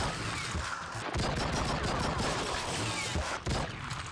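Gunfire rattles in an open-world police video game, with dense bursts of rapid shots fired in steady volleys and loud, close bangs lasting the whole stretch.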